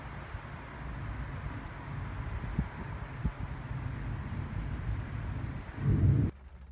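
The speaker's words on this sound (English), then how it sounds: "now it's just raining" Steady rain falls outdoors with a continuous hiss, and a couple of low thunder rumbles roll underneath before a heavier burst near the end.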